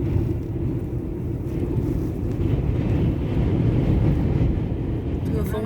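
Strong wind buffets a car driving along the coast at Cape Soya, Hokkaido, during a snowstorm, a constant loud low rumble and roar of wind noise from start to finish.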